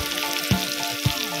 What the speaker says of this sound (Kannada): ಖಾಲಿ ಎಣ್ಣೆಯಲ್ಲೇ ಫ್ರೈ ಆಗ್ತಾ ಇದೆ, ಸ್ವಲ್ಪನೂ ನೀರಿಲ್ಲ